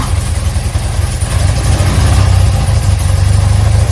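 A BMW R80/7 motorcycle engine catches and settles into a steady, loud, close idle with a low throbbing beat, running alone with no talk over it.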